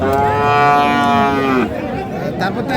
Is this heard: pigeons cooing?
no